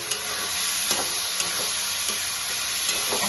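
Spiced red lentils frying in a pan, a continuous close sizzle with soft scraping stirs cutting in every half second or so.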